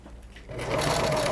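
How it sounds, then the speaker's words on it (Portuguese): A sewing machine stitches along the seam joining the crown to the body of a pineapple-shaped cushion; after a brief quiet moment the motor starts and runs steadily, close and fairly loud. "Vou vir aqui bem em cima da costura, que eu uni a coroa com o corpo da almofada."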